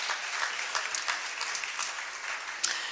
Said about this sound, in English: Give him an applause for his passion.